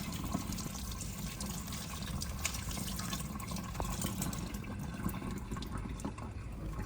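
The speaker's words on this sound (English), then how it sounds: "Dad took everything and washed it thoroughly under the cool tap water" Cool tap water running steadily while things are washed under it, a continuous close splashing rush with small clinks and drips scattered through it.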